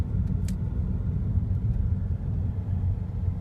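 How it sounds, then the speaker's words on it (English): Steady low rumble of an automatic Toyota Corolla on the road, with continuous engine and tire drone close up from inside the car; no talking. "I'm driving an automatic Toyota Corolla"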